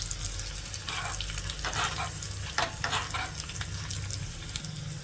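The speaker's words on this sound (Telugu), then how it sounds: "పోపు దినుసులు వేగిపోయాయండి, వెల్లుల్లి కూడా వేగింది" Mustard seeds, lentils, cumin and coarsely crushed unpeeled garlic fry in hot oil for a tempering, giving a steady close sizzle with bursts of crackle and occasional stirring clinks, with no voices.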